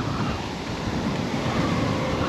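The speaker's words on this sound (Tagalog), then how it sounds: "malakas po yung hangin" Strong typhoon wind blows beside a swollen river, a dense, continuous roaring rush with buffeting on the microphone, loud and unbroken throughout.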